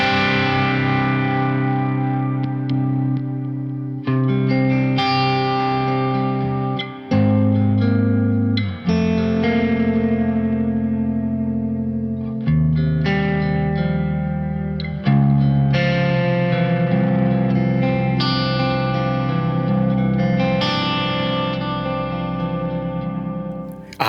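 Distorted high-gain electric guitar through Soldano SLO and 5150 amplifiers plays sustained chords and riffs, washed in reverb and echoing delay, loud and continuous.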